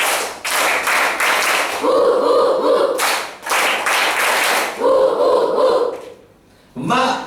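A group of children at a church kids' program claps in unison, several loud bursts of rhythmic clapping separated by short pauses.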